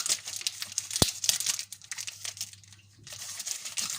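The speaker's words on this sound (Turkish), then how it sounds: "Tarçınımı açıyorum." A packet of cinnamon is torn open by hand, close crinkling and crumpling of packaging with a sharp tearing snap near the start, then more rustling.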